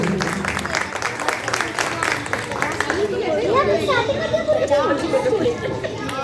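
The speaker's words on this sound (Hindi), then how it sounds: "तालियां बजती रहे।" Audience applause at a residents' association Ganesh festival talk show, a clapping wash mixed with crowd chatter and children's voices, with voices rising over it in the second half.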